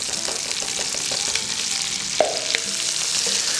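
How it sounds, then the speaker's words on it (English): One diced medium onion fries in rendered bacon fat, a steady, close crackling sizzle with occasional utensil taps and stirring scrapes. "we're gonna use that fat to cook down our onions"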